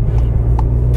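A Cupra Ateca 300PS SUV from 2019 driving, a steady low engine and road rumble close by with a couple of faint higher tones on top, no talk.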